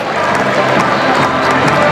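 A Scottish cricket crowd at a T20 match against Australia roars and cheers as a wicket falls, a dense, steady wall of massed voices filling the stands throughout.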